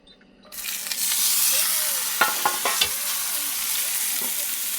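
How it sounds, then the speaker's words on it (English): A steak hits a smoking-hot cast iron pan, bursting into loud, steady searing sizzle after a moment of quiet, with a few sharp clanks and scrapes as it is pressed and moved. "Then we'll put the steak in."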